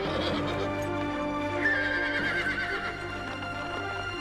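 Horse in a video game giving a drawn-out neigh and whinny over a steady game soundtrack, with faint clip-clopping hooves and no talking.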